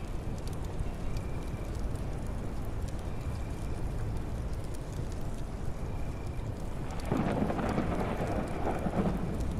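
Steady heavy rain pours through a video game thunderstorm in HumanitZ, with low rolling thunder rumbling beneath and a brief swell of brighter noise near the end, no speech.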